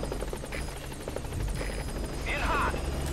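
Pequod, the support helicopter in MGSV The Phantom Pain, gives a low rotor rumble beneath game music and effects, with a brief brighter burst near the end.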